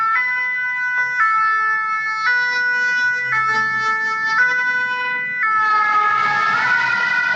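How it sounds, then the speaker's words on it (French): A two-tone ambulance siren wails steadily close by, alternating pitch in regular cycles, then grows brighter and noisier as it passes amid road noise. "On va laisser passer l'ambulance."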